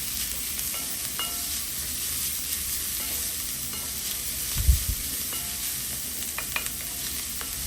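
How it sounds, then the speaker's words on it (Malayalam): Onion, ginger-garlic paste and green chillies sautéing in a pan for Kerala chicken ullarthiyathu, a steady close sizzle with occasional scraping stirs and no talking. "എന്നിട്ട് വീണ്ടും സോട്ട് ചെയ്യുക."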